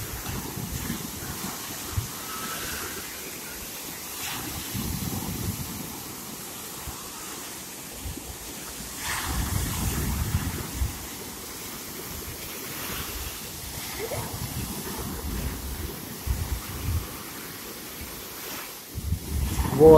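Storm-driven sea waves roll onto a beach at Karolino-Bugaz, a steady wash of surf with swelling rushes and some wind noise, no talk heard.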